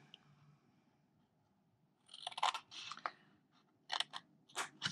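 Scissors cut straight through paper for a cube box lid, giving a few short, faint snipping bursts after a quiet start, close and with no talking.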